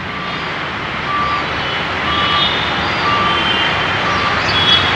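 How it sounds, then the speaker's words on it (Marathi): A large goods truck passes on a busy main road, a loud steady rumble of traffic noise with faint intermittent beeps, no voices over it. "हा बघा मोठा ट्रक आहे गुड्स व्हेकल मालवाहू टेम्पो आहे"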